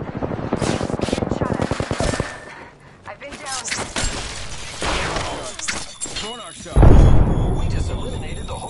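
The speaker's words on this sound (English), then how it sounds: "Opening fire on the enemy." Rapid automatic gunfire rattles in bursts during a video game shootout against an enemy squad, with loud close shots, impacts and game effects, and a voice talking over part of it.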